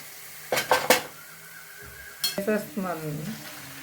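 A spoon clinks and scrapes in a pan while vada pav filling fries and salt goes in, two bursts of stirring with a soft sizzle beneath, and brief speech near the end.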